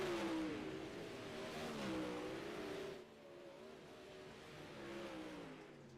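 Race cars accelerate around a short oval track, engines climbing in pitch as they drive off a corner, loud and then easing into a more distant drone.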